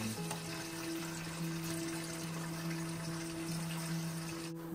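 Raisins frying in hot ghee in a pan while making Thalassery chicken biryani, a soft steady sizzle and bubbling close by, continuous and unbroken, with no talking.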